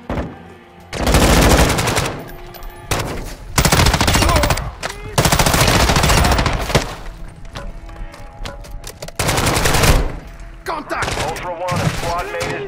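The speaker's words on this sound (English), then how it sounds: "You are taking effective fire." Gunfire in the video game Call of Duty: Modern Warfare 2, loud bursts of rapid automatic fire in several long volleys separated by brief pauses, with voices talking between and under the shots.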